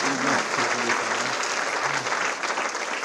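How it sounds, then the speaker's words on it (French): Steady audience applause at a comedy gala fills the whole stretch, dense and continuous, with a few voices faintly calling out beneath the clapping. "On peut l'applaudir encore une fois"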